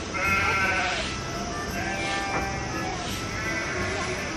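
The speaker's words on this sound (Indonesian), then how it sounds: "Domba yang ini lucu banget teman-teman." Small white sheep bleat repeatedly at a farm, the calls loud and close, overlapping one another against steady outdoor background noise.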